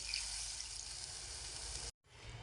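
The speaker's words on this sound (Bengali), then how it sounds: "এখন আমি শিল ধোয়া জলটা দিয়ে দিচ্ছি।" Water used to rinse a grinding stone pours steadily into a pan of butter with cashews, raisins and poppy seeds, a continuous splashing hiss that cuts off abruptly, then briefly resumes.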